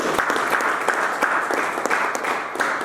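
A church congregation claps steadily in sustained applause, dense and fairly loud, with faint voices mixed in.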